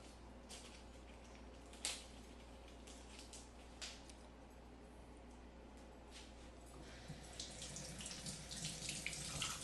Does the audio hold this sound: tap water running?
yes